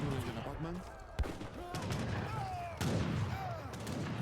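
Field cannon blasts and scattered gunfire in the Age of Empires 3 strategy game, several sharp booms standing out around the middle of the clip over dense battle noise and game sounds, with a voice talking throughout.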